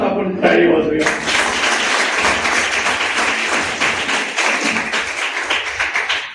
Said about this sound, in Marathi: आपल्या या सगळ्या शाळेत स्कूलसाठी जोरात आपण टाळी वाजवूया